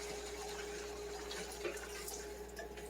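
Wine pours from a bottle into a hot pan to deglaze it while cooking beef and mushroom risotto, a steady liquid splash and trickle running the whole time at moderate level.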